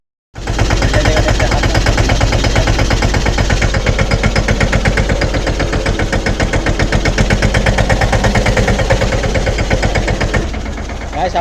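A farm tractor's diesel engine idles steadily close by, its rapid, even chugging loud and constant throughout, easing slightly near the end.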